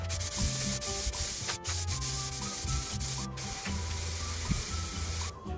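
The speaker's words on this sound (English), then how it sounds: "So to stick this, I'm using this 150 heavy duty diesel spray." Heavy duty 150 adhesive sprayed onto side panelling during a Birchwood 22 boat restoration: a steady, close hissing spray that runs almost continuously, with a few brief breaks and a low hum beneath.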